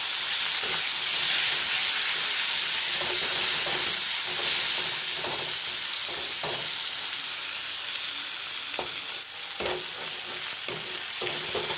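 Chopped tomato frying with golden onion in a pan, a steady close sizzling hiss with occasional soft clicks of stirring, no talking.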